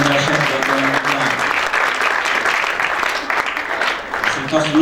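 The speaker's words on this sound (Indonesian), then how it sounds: "Tepuk tangan yang dahsyat buat teman-teman." A youth congregation at a church gathering bursts into loud, sustained applause, a dense wash of many hands clapping at once, with a few voices faintly audible beneath.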